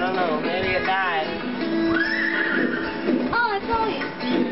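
A horse whinnies and neighs repeatedly in the Disney Infinity video game, The Lone Ranger play set, loud and up close, with game sound and faint hoof clops underneath.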